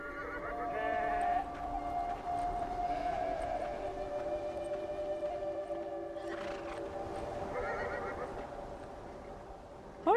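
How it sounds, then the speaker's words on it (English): Sheep bleat and call over a steady soundtrack in the video game Beyond: Two Souls, with several bleating cries at moderate volume throughout. "Bunch of sheep."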